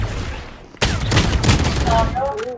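A sudden burst of rapid machine gun fire in Valorant kicks in after a brief pause, loud and sustained, followed by faint electronic game tones near the end.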